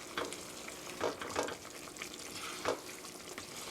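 Mapo tofu sauce with doubanjiang bubbling in a pan while being gently stirred, soft scraping strokes and wet sizzling recurring every second or so over a continuous simmer, no voices.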